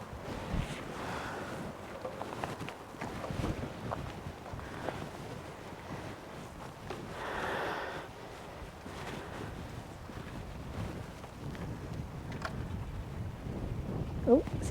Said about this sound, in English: See the wind's blowing it away.